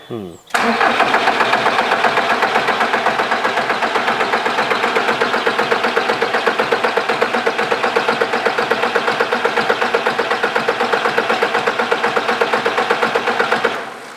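Volkswagen diesel engine, just bled of air, cranks briefly, catches and settles into a loud, steady, close-up idle with a rhythmic diesel clatter that runs unbroken until the end.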